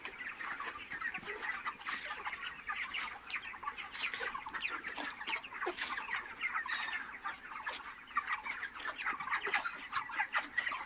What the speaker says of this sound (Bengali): কত সুন্দর লাগে মুরগিগুলো এইভাবে থাকলে।